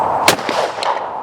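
Browning XS shotgun firing at clay targets outdoors, two sharp, loud reports in quick succession with a short decay after each, and no talking.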